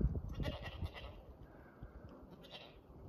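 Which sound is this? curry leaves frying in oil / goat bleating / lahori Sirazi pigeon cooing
goat bleating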